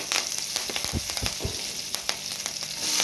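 Curry leaves crackle and sizzle in hot oil already popping with mustard seeds and cumin, a dense steady spatter with a few sharper pops near the middle, close and fairly loud with no talking.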